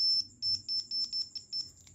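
Touched by multimeter probes, a mobile phone speaker emits a piercing, high beeping tone, heard close up in a fast, uneven run of short pulses with brief gaps between them and no one talking.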